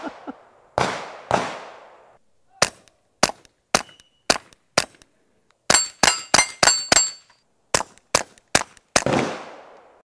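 A bolt-action rifle fitted with a Dead Air Mask HD suppressor fires rapidly, about fourteen sharp, close cracks in uneven bursts with short quiet gaps, some shots ringing with metallic clinks.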